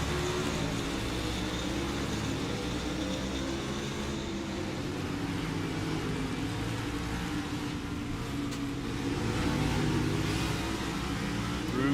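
NASCAR Cup Series stock cars race on the Charlotte Roval, a dense continuous engine roar that swells slightly toward the end, heard from a distance without talk.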